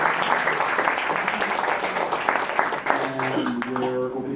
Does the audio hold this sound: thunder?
no